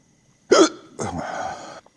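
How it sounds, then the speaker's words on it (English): A person hiccups once, loudly and close, followed by a longer voiced breath or sound after it, with no speech around. "Hiccups"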